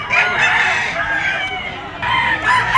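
A stag gamecock crows loudly and close by, one sustained cock-a-doodle-doo rising and falling over about three seconds amid other fowl clucking in a busy Sunday poultry sale market.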